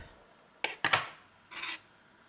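Two quick scissor snips cutting yarn at the end of a crocheted child's sweater sleeve, close and crisp, followed by a softer rasping pull of the thread in quiet surroundings.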